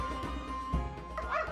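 Street dogs in Turkey make a short bark midway, then higher yips and whines toward the end over a steady hum of background noise, moderately close.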